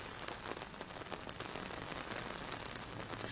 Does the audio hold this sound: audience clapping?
no